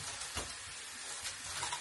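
Quail cooking in a pan gives a soft, steady sizzle with faint stirring scrapes, quiet and close throughout.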